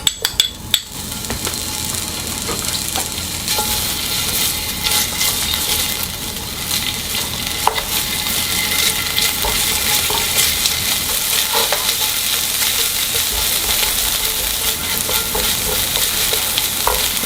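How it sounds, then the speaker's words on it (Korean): Garlic stir-frying in a little cooking oil in a pan for crispy anchovy stir-fry, a steady broad sizzle with scraping spatula stirs and occasional clinks throughout, close and loud, no talking. "여기에 마늘을 먼저 볶아주세요."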